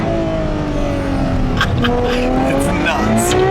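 A high-revving naturally aspirated Ferrari engine screams loudly and continuously through its exhaust, its pitch sweeping up and down, with a brief squeal and rasp in the middle.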